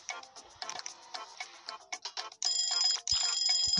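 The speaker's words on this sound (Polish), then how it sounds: "No wiem, że dzwoni" In the cooking video game Papa's Sushiria, quick clicking and clattering gameplay sounds give way to a loud, sustained electronic phone ringtone that sounds in two long bursts near the end.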